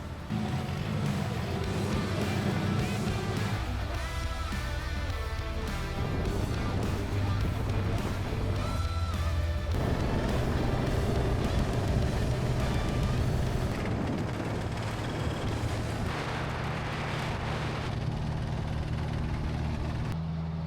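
An ailing off-road vehicle driven home at easy speed, its engine droning steadily under wind and road rumble, with tonal whines shifting as it goes and occasional faint voices.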